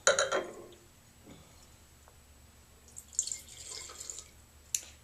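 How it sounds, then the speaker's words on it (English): Wine being poured out, a faint liquid trickle and a few drips in a quiet room, with a brief splash at the start and another soft run of pouring later. "I hate to pour that one out, actually, but I will."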